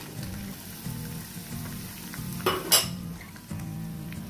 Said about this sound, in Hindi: और इसको स्टर फ्राई करना है जस्ट फॉर वन मिनट